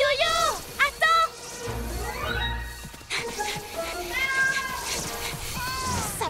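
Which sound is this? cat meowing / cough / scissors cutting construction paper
cat meowing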